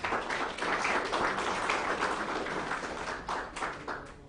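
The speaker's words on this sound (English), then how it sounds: "let's give a round of applause to them" Applause from an audience at a talk on women in open-air and cross-border trade in Kenya, a steady dense clapping wash lasting the whole stretch, moderately loud and fairly close.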